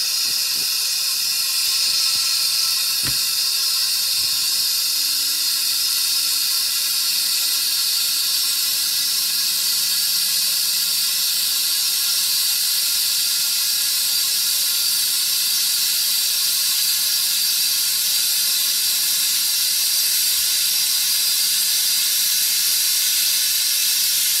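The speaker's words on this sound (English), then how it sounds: "There you go, there's steam." Continuous high-pitched hiss from a Breville BES900XL espresso machine steam wand, loud and unbroken, with a faint whistle-like squeal running underneath and a brief click near the start.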